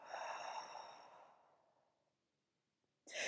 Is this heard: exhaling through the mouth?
yes